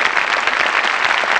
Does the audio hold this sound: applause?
yes